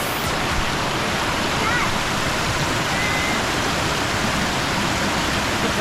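A waterfall pours on a hillside hiking trail at Quang Thic Pagoda in Ha Tinh province, Vietnam. The rushing roar is loud, dense and unbroken, with no voices.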